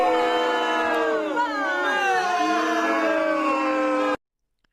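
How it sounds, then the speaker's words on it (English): A large crowd boos loudly and continuously, a dense wash of sustained overlapping voices that swell and waver for about four seconds before cutting off abruptly into silence. "these people start booing again"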